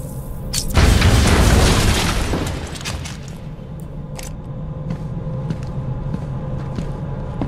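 Explosive gel blowing open a wall in Batman: Arkham Asylum: one loud deep boom with a rumbling blast that fades over a couple of seconds into steady game ambience, with a few faint clicks after.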